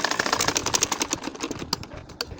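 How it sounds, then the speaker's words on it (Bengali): A domestic sewing machine stitches a curved line on a nakshi kantha quilt, running in a fast steady rhythmic clatter throughout, close and fairly loud with no talk. "একইভাবে আরও একটা লাইন আমি সেলাই করে নিলাম"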